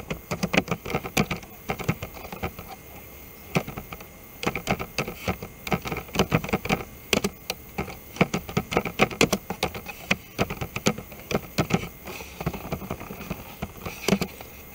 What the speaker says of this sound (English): Now let us try typing some values to see how the insert works.